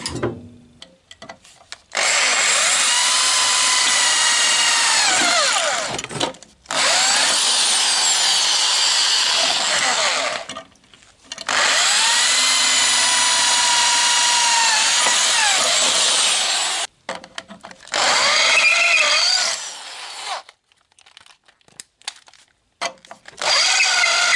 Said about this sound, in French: Là, je reperce encore une troisième fois